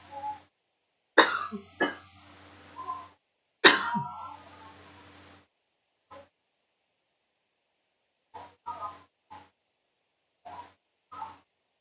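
Several harsh coughs close to the microphone, a burst of two or three early on, then quieter intermittent coughs and throat sounds spaced apart.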